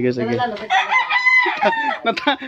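A rooster crows loudly and close by, a long harmonic call that rises and holds before breaking into shorter rough notes, with a hint of voices nearby.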